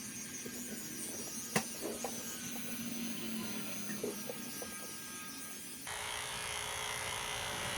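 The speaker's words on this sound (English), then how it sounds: "Sometimes I do come in this way with the clipper" Electric clippers grooming a miniature dog's legs short: a continuous close buzzing motor hum with faint clicks, shifting to a brighter, louder whine near the end, no speech.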